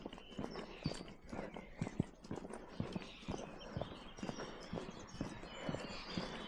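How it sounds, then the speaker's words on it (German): A white horse walks across a pasture, its hooves clip-clopping in a steady, fairly close rhythm with soft outdoor background noise and no talking. "Ein schönes weißes Pferdchen in die Weide."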